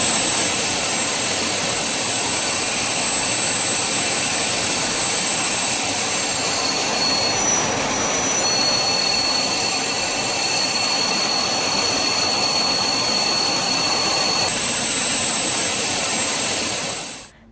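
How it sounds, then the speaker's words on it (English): A Chinese military jet roars steadily over the South China Sea, its loud, sustained engine noise filling the whole stretch with a faint whine rising partway through, and no voices over it. "That was a Chinese military plane."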